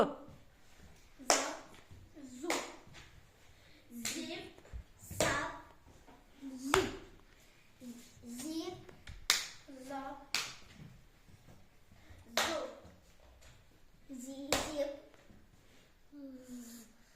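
Sharp hand claps in a Ukrainian attention game, struck singly at irregular intervals between spoken calls, with voices talking throughout.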